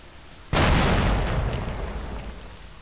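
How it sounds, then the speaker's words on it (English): A grenade detonates in a video game with a sudden loud, close boom, and a rumbling tail slowly fades over the next two seconds, with no talking. "One of them must have dropped a grenade."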